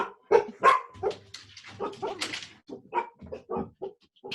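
Dogs bark and yip in quick, close bursts, with whimpering between them and a voice talking faintly at moments.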